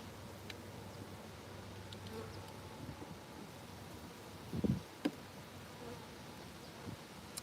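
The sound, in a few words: honeybees buzzing around hive during honey harvest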